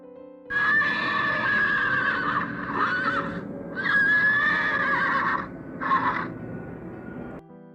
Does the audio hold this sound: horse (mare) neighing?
yes